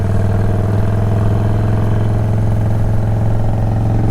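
A Harley-Davidson Dyna Low Rider S cruising through corners, its V-twin engine a loud, steady low rumble with a pulsing throb that holds constant and close throughout.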